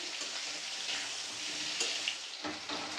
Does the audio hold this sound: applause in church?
no